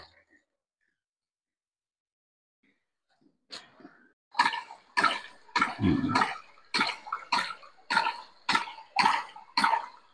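A farm hydraulic ram pump, undamaged and back in service after recovery work, pushes water in rhythmic pulsing spurts about twice a second, loud and close, after a few quiet opening seconds.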